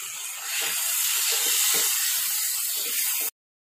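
Tomatoes and curry leaves frying in oil for a village-style spicy chicken curry give off a loud, close, steady hiss of sizzling that cuts off abruptly.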